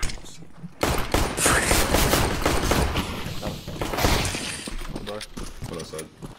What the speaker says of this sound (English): hear all the banging. Exploding stuff.